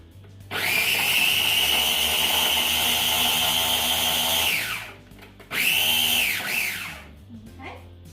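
A food processor whizzes food in two bursts: a long, loud, steady motor whine that winds down, then a shorter run after a brief pause, heard up close with no talking.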